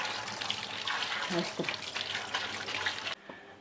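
Cold water runs steadily over freshly boiled pasta in a kitchen strainer, a broad continuous splashing gush that stops abruptly near the end, with a voice talking over it.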